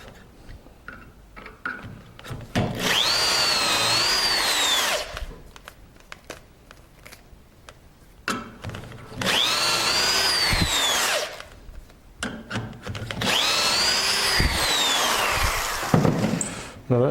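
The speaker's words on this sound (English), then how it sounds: "This drill has a tendency to clog." A power drill bores dowel holes in wood through a Dowelmax jig, three loud sustained bursts of whining drilling separated by quieter pauses with clicks and handling noise.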